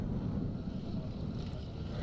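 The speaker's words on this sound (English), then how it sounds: "It was a very, very windy day and absolutely freezing cold for late September." Strong, gusty wind buffets the microphone at an autumn motocross race meeting, a steady low roar filling the clip with no other clear sounds standing out.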